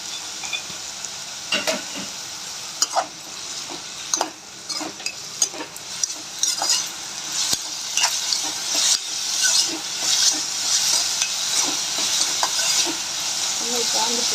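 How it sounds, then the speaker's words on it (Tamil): Potatoes fry for Tamil-style potato varuval, with turmeric and ginger-garlic paste, sizzling and hissing in a hot pan while a utensil stirs and scrapes them in irregular bursts, close up, with no talking. "இஞ்சி பூண்டு பேஸ்ட்டும் மிக்ஸ் ஆகிற அளவுக்கு கிண்டிக்கோங்க"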